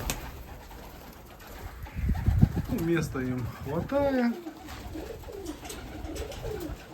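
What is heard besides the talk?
pigeons cooing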